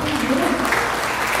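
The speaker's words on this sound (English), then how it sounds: "please give a nice round of applause for" Crowd applause at an outdoor music festival greeting a school handbell choir, brief steady clapping mixed with an announcer's voice over a loudspeaker.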